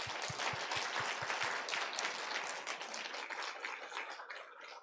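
A church congregation applauding during a New Year's service, a dense burst of clapping that starts strong and slowly thins out.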